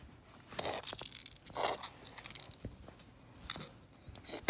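A stuffed-animal pet crunches and chews chili in short loud bursts spaced about a second apart, close up, with only faint background sounds.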